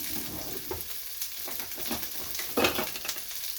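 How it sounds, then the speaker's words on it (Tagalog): Onion and garlic sautéing in a pan as a base for tinolang manok chicken soup, a steady close sizzle with scraping stirs and a louder clatter near the end. "Mekos-mekos lang natin yung sibuyas at saka yung bawang"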